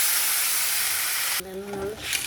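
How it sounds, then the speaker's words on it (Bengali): Spices tipped into onions frying in a pan hiss and sizzle loudly at first, then the sizzle drops sharply and settles into a quieter crackle. "পেঁয়াজটা একটু ভাজা হলে মশলাটা দিয়ে দিলে হয়ে যাবে।"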